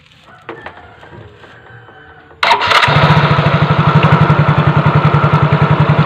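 A fuel-injected automatic scooter with a CVT starts up after a quiet stretch: a short starter crank, then the engine catches and settles into a loud, steady, close-up idle with a regular pulsing beat.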